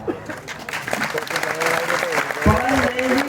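Enthusiastic applause from a crowd, continuous and fairly loud, with a voice speaking over the clapping.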